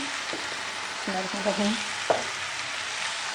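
Chopped onions sizzle gently in a pan for an omelet, with green chilies going in, while a spoon scrapes and taps in short strokes under a constant close frying hiss.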